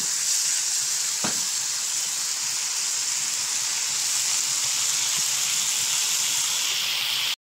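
Masala spices fry in oil for an egg roast, a loud continuous hissing sizzle held steady throughout, with a single sharp tap of a utensil early on and no talking.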